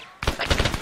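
Rapid burst of in-game gunfire from ArmA 3 during a squad clearing push toward a church, several sharp close shots in quick succession after a brief quiet moment.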